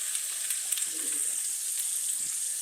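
Pork rind crumb coated Atlantic cod frying in bacon fat, a soft, fairly faint sizzle and crackle with a few small spits, no talking.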